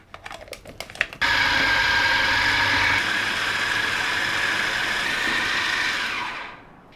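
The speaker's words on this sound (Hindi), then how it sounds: "और इसको अब मैं अच्छी तरीके से ग्राइंड कर लूँगी" An electric grinder whirs loudly and steadily for several seconds, pulverising red chili, black pepper, garam masala and salt, after a few brief clicks and taps; the motor then winds down and fades.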